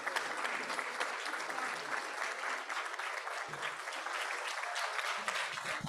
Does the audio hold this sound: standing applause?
yes